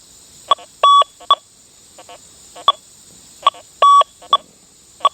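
A ground-balanced metal detector gives out a pattern of sharp electronic beeps: short chirps mixed with a few longer steady tones. They repeat in pairs and clusters over a faint constant hiss, with no talking.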